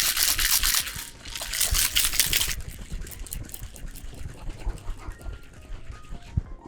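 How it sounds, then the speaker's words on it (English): A cocktail shaken hard in a shaker with pebble ice for a tiki-style drink, giving a loud, dense rattling burst for about two and a half seconds, then quieter clinks and handling noises. "Give this guy a nice whip shake."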